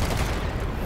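Turret gunfire in the online shooter Dirty Bomb: a dense, loud burst of rapid automatic shots filling the whole moment with no pause.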